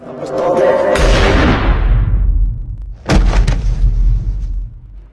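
Pistol shots in a tense scene from the Indian film Agneepath: two sharp, loud blasts about two seconds apart, each ringing out with a booming decay.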